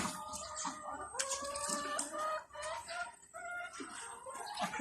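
Laying hens cluck and squawk nearby in a busy, overlapping chorus of short calls with a few longer drawn-out cries.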